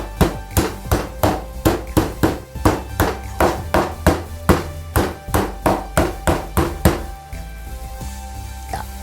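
Chicken breast is pounded flat for schnitzel with a meat mallet, a steady series of loud, close thuds at a quick even rhythm that stops near the end.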